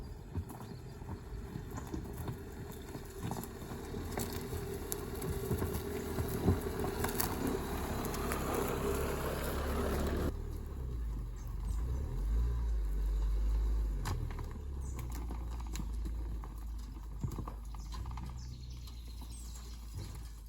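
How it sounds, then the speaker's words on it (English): A vehicle drives up a newly cleared brushwood path on rural property, a steady low rumble with crunching and rustling underfoot, fairly close throughout and changing tone partway through as it climbs. "now we're gonna try to drive all the way up to pick up our tools."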